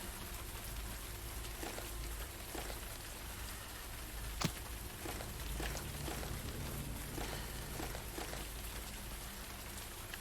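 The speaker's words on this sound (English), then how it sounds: "Oh, the rain is perfect for this game." Rain falling in the zombie video game Zed Zone, a steady, soft wash of drops and patter that runs without a break, with one sharp click partway through.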